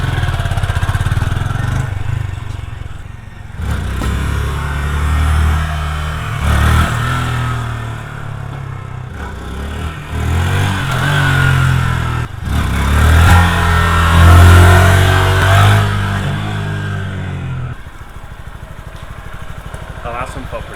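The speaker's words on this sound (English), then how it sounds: "All these wheelies I'm doing with the throttle" Honda Grom motorcycle engine revving hard in repeated bursts during throttle wheelies, loud and close, rising and falling over about twenty seconds with someone talking throughout.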